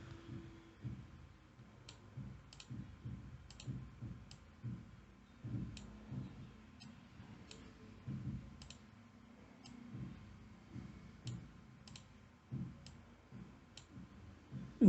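Computer mouse clicks during work in GraphPad Prism software, a series of faint, sharp single clicks spaced irregularly across the stretch over a low background rumble.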